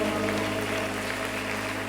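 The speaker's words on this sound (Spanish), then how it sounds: "fuerte aplauso." A church congregation applauds in a dense, steady wash of clapping that stays level throughout, with a faint tonal hum running underneath.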